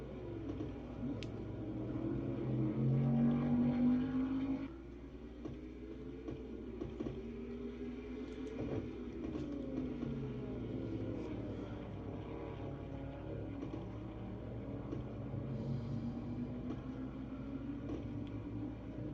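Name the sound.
race cars driving down the straightaway, from a racing video game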